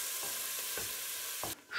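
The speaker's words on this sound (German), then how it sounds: "Und das schwitzen wir natürlich zu unserem Speck noch mit an." White onions sweating with bacon in a pan, a continuous close hiss of sizzling fat with a few soft stirring scrapes, cutting off abruptly near the end.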